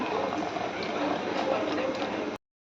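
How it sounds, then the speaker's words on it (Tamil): Water is poured into a mixer jar holding peanuts for chutney, a continuous splashing gush for about two seconds that stops abruptly. "இப்போ வந்து நம்ம தண்ணி ஊற்றி அரைச்சிக்கலாம்"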